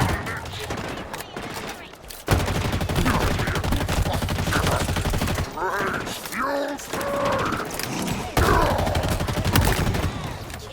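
Rapid bursts of gunfire in Halo Infinite, dense automatic fire broken by a brief pause and then resuming loudly, with in-game voices and effects mixed in.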